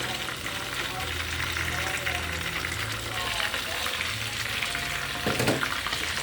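Chicken fries steadily in a pan, a continuous close sizzle and crackle throughout, with a voice speaking over it.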